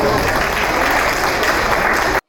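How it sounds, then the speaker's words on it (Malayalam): Loud, dense audience applause fills a welcome ceremony at a Thiruvalla UAE expatriate association Onam inauguration, steady throughout and cutting off abruptly at the end. "നല്ലൊരു കയ്യടി കൊടുക്കാം."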